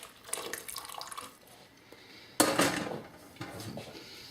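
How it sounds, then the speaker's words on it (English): Homemade cream of celery soup liquid poured back into the same pot, with a sudden louder splashing pour midway after faint clinks and drips, then easing off. "we're just going to transfer our soup liquid just right back into the same pot"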